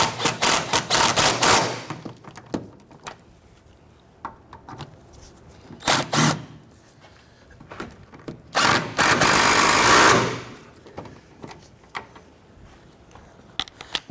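Sway bar bushing bolts on a 1992–1996 Toyota Camry are snugged down with a power tool, several loud rattling bursts of impact-style whirring separated by short pauses, close and clear.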